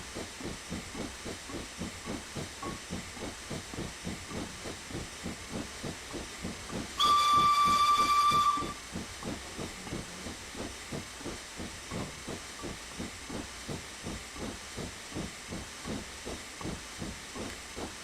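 A steam train on the Darjeeling Railway in Train Simulator Classic chuffs in a steady rhythmic hiss, interrupted midway by a short, loud whistle blast, then the chugging carries on.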